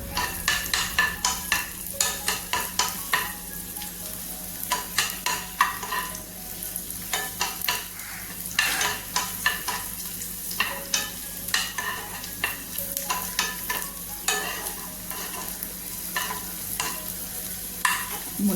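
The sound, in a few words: tempering raisins, frying and stirring in a pan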